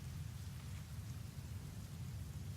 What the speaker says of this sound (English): it's still raining in here